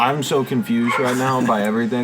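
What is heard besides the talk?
dog barking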